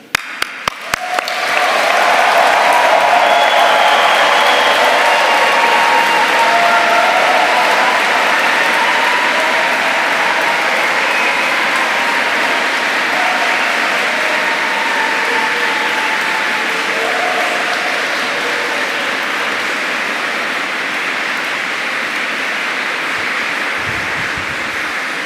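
Graduation ceremony audience in Canterbury Cathedral applauding, a broad, continuous wash of many hands clapping that starts abruptly and holds steady, diffuse and echoing in the vast stone space, with no talking.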